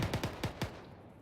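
A short, loud burst of machine-gun fire, about five rapid shots in quick succession, then fading echo, with no voices.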